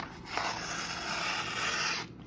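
A steady, rough rasping scrape runs for about two seconds, close and fairly quiet, as a thin Spyderco Pattadese knife blade tears unevenly through paper.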